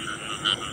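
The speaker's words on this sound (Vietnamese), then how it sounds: "Ôi con ếch cái khủng. Nhưng mà con ếch đực, con nào con nấy nó bự" Frogs croaking at night in a rice field, a brief continuous chorus of rasping croaks, close and steady, with no talking.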